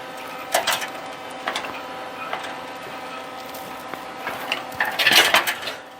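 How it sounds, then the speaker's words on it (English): A hand-squeezed pop rivet gun clicks in several separate squeezes while fixing a small rivet in a workshop, ending in a sharper snap as the rivet pops, heard close with no talking. "you'll keep doing that until it pops. That's why I guess they get the name pop rivet."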